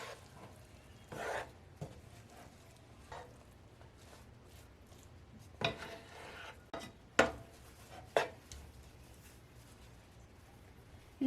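Chapati noodles are stirred lightly in a pan at low volume, with scattered scraping and clinking taps of a utensil against the pan at irregular intervals over a quiet background.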